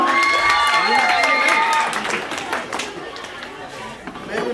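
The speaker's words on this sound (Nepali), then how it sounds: "बहिनीलाई जोरदार ताली स्वागत गरौँ।" At a Green Society talent show, a crowd claps and cheers to welcome the dance competition runner-up, with a voice ringing out over the noise and the clapping thinning toward the end.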